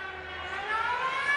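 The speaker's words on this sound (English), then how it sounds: "why is that siren going off?" A siren sound effect played during an online pub quiz, a steady wailing tone with layered rising harmonics that swells slightly louder toward the end, heard alone without speech.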